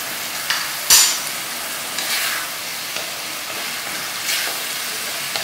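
Keema frying in a pan with coarsely cut green chillies and spices, giving a steady close sizzle broken by a sharp utensil knock and several soft stirring scrapes.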